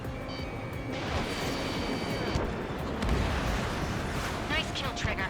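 In-game missile explosions and heavy gunfire-like blasts in Ace Combat 7 as an enemy aircraft is shot down, a dense, loud rumbling barrage with jet noise and crackling bursts, continuous throughout with a voice talking over it.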